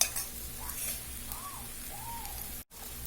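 Cooked rice frying over a low flame in a pan, a soft steady sizzle and stir with no talking.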